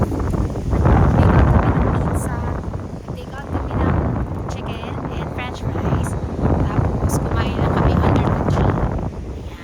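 Strong, cold wind in a large park in South Auckland buffets the microphone in heavy, continuous gusts, a loud low roar that rises and falls throughout, with voices partly buried beneath it.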